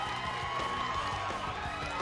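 Canadian crowd at a slo-pitch softball game between the USA and Canada, a steady roar of cheering and shouting from many people in the stands, with a commentator talking over it.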